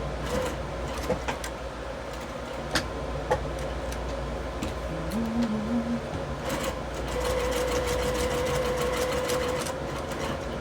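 A sewing machine stitching a sling bag with heavy thread hums steadily, with scattered mechanical ticks and a brief whine later on, fairly quiet and close.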